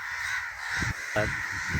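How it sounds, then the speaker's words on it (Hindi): Crows cawing in a village orchard, reacting to a mobile phone stand, a few sharp harsh caws close by over a steady background hum, with no talk. "ये जो है ना कौवे, ये मेरे पास स्टैंड है, इसको देख के ना चिल्लाने लग गए हैं"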